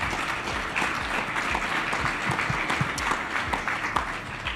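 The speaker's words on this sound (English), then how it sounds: "If everybody could give Richard and his team a big round of applause for a great job." A room full of people gives a sustained round of applause for Richard and his team at a wealth-advisory panel event, with dense, steady clapping throughout.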